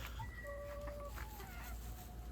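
Chickens cluck and two roosters call faintly in the distance over a steady low hum in a backyard flock, several birds overlapping.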